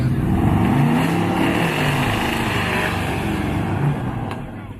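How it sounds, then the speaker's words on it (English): A Dodge truck and a square-body Chevy Silverado race at a Roadkill Nights drag event, a loud, close, sustained engine roar that swells and then gradually fades as the vehicles pull away. "Little Dodge is trying to twerk its way right off that steel plate."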